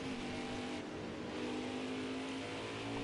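A Ford F-150 race truck accelerating around a track, its engine droning steadily with a sustained tonal whine, moderately loud and fairly close throughout, with no talking over it.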